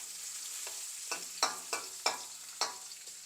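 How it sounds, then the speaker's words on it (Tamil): Two green chilies frying in a pan for a Tamil brinjal salna, with a soft steady sizzle broken by about six sharp scraping stirs in an uneven rhythm, close and clear with no talk. "இது நல்லா கொஞ்சம் ஃப்ரை ஆகட்டும்"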